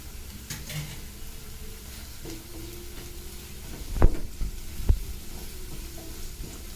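Two or three green chilies go into hot oil in a pan with sliced tomato, giving a steady low sizzle with a few sharp clunks and taps of utensils partway through.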